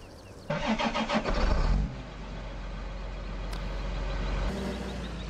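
A tractor engine in Farming Simulator 15 runs with a loud, harmonic rumble for a couple of seconds, then drops to a steady low idle hum that continues to the end.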